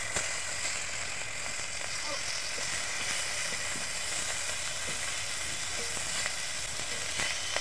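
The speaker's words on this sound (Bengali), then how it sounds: "4 পিস মাছ, পাঙ্গাস মাছ সুন্দর ভাজা হয়ে গেছে।" Pieces of pangas fish, seasoned with salt and turmeric, fry in hot oil in a kadai with a dense, continuous sizzle, close and steady, dotted with faint clicks.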